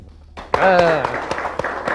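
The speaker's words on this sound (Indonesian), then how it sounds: "mari kita ucapkan terima kasih sekali lagi kepada Gus Dur dengan tepuk tangan yang meriah" Audience applause for Gus Dur at a televised talk show: scattered, crisp hand claps that start sparse and continue as separate sharp hits while a voice speaks over them.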